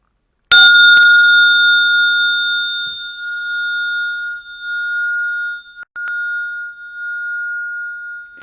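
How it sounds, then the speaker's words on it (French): A small meditation gong is struck once, its bright attack giving way to a long, clear, steady ring that sustains and slowly fades over several seconds in a quiet room. "mon petit gong que je vais faire sonner pour que nous entrions en méditation ensemble"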